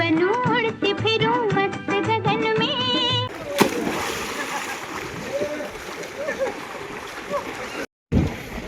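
Water splashes and sloshes in a swimming pool as a person swims, close and steady after a stretch of speech and singing at the start.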